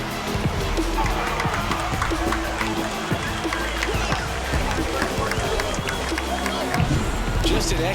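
A virtual stadium crowd in the MLB The Show baseball video game roars steadily after a home run, a dense continuous swell of cheering and clapping under a commentator's voice.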